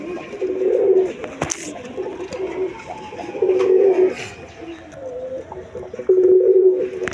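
A pair of big king pigeons coo steadily on a farm, repeated low rolling coos rising and falling over a busy background of other birds and faint clatter, close and fairly loud.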